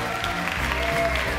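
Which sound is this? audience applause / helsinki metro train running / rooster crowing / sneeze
audience applause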